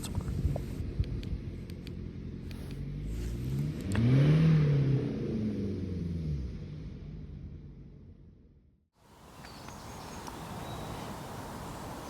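Car engine running outside in the early morning, rising into a loud rev that swells and fades over several seconds, then cuts off before a softer steady hum returns.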